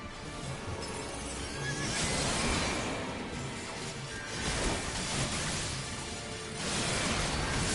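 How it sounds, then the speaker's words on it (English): A horse-like creature in Final Fantasy XIV lets out whinnying neighs amid combat effects, with whooshing, crashing surges recurring over a dense game soundscape and no speech. "It's a horsey!"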